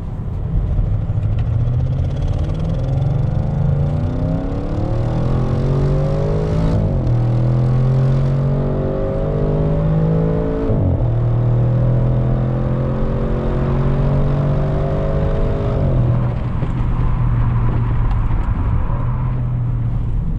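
Audi RS6 driven hard through a corner in a low gear, its engine loud and close, revving up in rising sweeps through several gear changes with brief drops between pulls, and steady road noise underneath.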